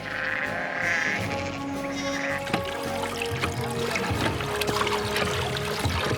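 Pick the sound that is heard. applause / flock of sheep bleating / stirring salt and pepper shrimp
flock of sheep bleating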